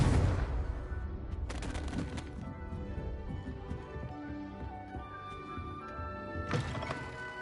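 Confringo fire-blast spells cast in the video game Hogwarts Legacy, a run of loud explosive bursts and crackling impacts layered over dense game music and effects, with no talk.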